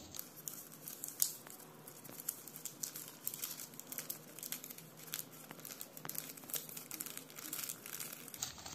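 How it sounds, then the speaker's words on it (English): Paper or old newspaper being folded and creased by hand, a steady run of close crinkling and crumpling with small tearing-like rustles throughout, no talk. "take a paper or an old newspaper and start folding it like this"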